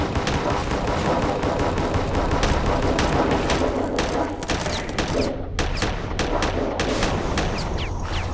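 Weapons fire in a Starfarer space battle: continuous heavy barrages of rapid shots and booms layered over a dense, loud rumble with barely any pause, and faint voices underneath.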